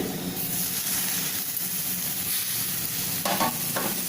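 Paneer samosa filling of fried potatoes and paneer stirred in a hot pan, a steady sizzle with soft scraping of the spoon running continuously, close and moderately loud, with a few sharper scrapes near the end.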